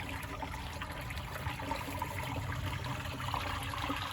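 Water running in a creek, a steady close rushing and trickling wash that continues evenly without pause or voices.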